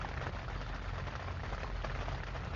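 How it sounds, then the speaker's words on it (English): Rain falls steadily outside, a soft, even hiss of drops on surfaces that stays low and unbroken throughout, with no thunder evident. "yes, that is rain in the background if y'all can hear it"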